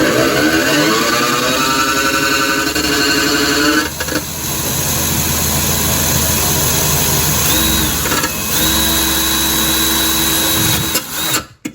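An electric drill bores into the metal case of an old 8-bay NAS, running loud and steady with a brief dip near four seconds and another around eight, then winding down at the end.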